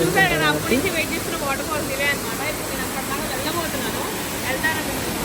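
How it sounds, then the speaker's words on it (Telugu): St Nectan's Glen waterfall in Cornwall, fed by the Trevillet river, gives a constant broadband rush of falling water in the background while a person talks over it. "సో ఈ వాటర్ ఫాల్స్ వచ్చేసి ట్రెవెలెట్ రివర్ ఒడ్డున నుంచి వాటర్ అనేది ఇక్కడికి వస్తుంది అనమాట"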